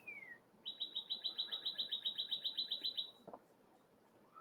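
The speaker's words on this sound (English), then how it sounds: "If you hear the birds chirping, it's because I'm still on the camping trip." A bird gives a quick, even series of about fifteen high chirps in a row, clear against quiet outdoor background at a campsite, with a softer call just before.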